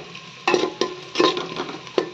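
Onion and ginger-garlic paste fry in a pan while being cooked for chingudi dalama, a prawn dish. The sizzle is soft and steady, and four or five sharp stirring scrapes cut through it.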